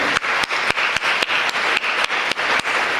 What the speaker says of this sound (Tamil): செவிலியராக இருக்கக்கூடிய அந்த குழந்தைங்களுக்கு ஒரு தடவை கைத்தட்டு